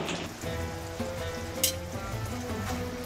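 Beef bhuna simmering in a pan after cumin powder is sprinkled over, giving a steady close sizzle with a soft bubbling low end, one brief scrape near the middle, no voices.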